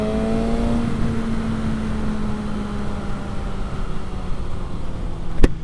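A BMW S1000RR motorcycle engine on a road ride rises in pitch as it revs, with a whine that sweeps upward and then falls, under steady wind and road noise.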